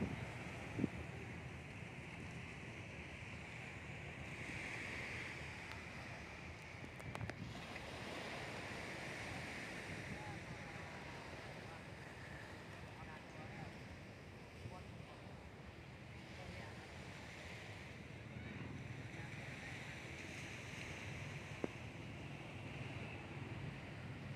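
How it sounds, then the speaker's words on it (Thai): Steady rushing surf and wind noise from ocean waves washing onto Patong Beach, Phuket, in the evening, continuous and fairly loud throughout, with a faint voice underneath. "ได้ยินเสียงเนี่ย เสียงคลื่น"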